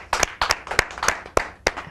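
Scattered hand claps from a small studio audience on an Indian talk show, a few distinct sharp claps spaced irregularly rather than a full sustained ovation.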